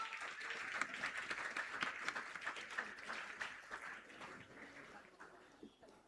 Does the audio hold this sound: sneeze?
no